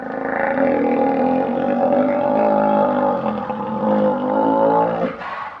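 An alligator vocalization from a sound library, one of the layers of a T-Rex roar: a long, loud, rumbling bellow that holds steady for several seconds and then cuts off.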